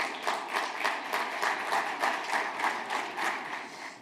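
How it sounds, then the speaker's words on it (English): An audience claps to welcome panelists onto a stage at an arts event, a moderately loud, fairly steady applause with a pulsing rhythm that runs throughout without speech. "join me in giving them a round of applause while we welcome them on stage"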